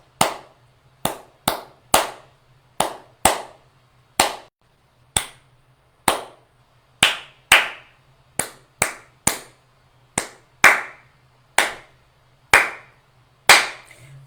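Hands clap a syncopated rhythm pattern built on quarter notes, a sequence of sharp, close, dry claps with uneven spacing and brief pauses, alone in a quiet room.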